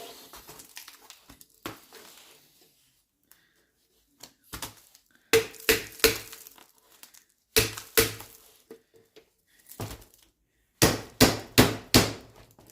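Someone hammers the screw cover round on a Jaguar XJ40 4.0L headlight, giving sharp metallic taps in small clusters. The strikes are sparse at first, then come in quick bursts of three or four.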